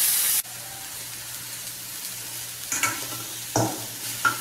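Onions being lightly sautéed in a pan for rice flour roti, a faint steady sizzle broken by a few soft spatula scrapes and stirs near the end.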